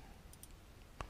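A single crisp computer mouse click sounds near the end over a faint, quiet background.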